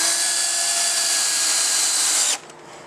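A power drill spins steadily at high pitch, driving screws into plywood struts, loud and close, then cuts off abruptly near the end, leaving a quiet room tone.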